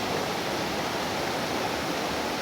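A river flows with a steady, dense rushing of water, loud and constant with no breaks and no voices.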